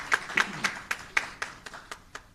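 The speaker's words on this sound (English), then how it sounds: "I think we should give the Prime Minister a little bit of applause for that one." Applause for the Prime Minister at an official forum launch, a small group clapping in a loose rhythm of about ten distinct claps that thin out and fade.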